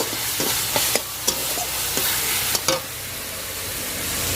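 Spices sautéing in a pan, a dense steady sizzle up close with repeated sharp scrapes and taps of a spoon stirring.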